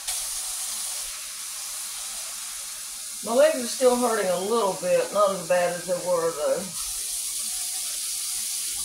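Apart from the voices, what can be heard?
water from faucet filling containers in kitchen sink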